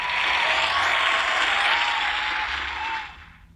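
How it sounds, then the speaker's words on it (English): A crowd of storybook animals cheers at the end of the hare and tortoise race, a loud steady wash of applause and cheering that holds, then fades away over the last second. "While he was sleeping, he heard the other animals cheering."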